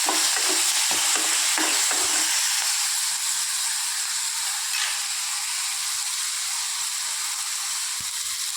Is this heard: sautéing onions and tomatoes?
yes